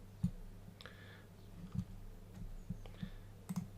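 Mouse button clicks in desktop software, a handful of short sharp taps spaced irregularly over a quiet background, close and faint.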